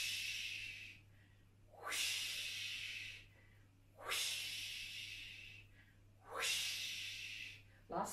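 Children's voices imitate whooshing wind for clouds during a primary school tai chi session, three long breathy whoosh sounds rising and fading in turn with short pauses between them.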